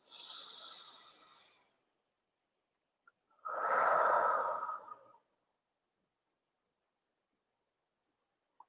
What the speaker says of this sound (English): So let's take a deep breath first.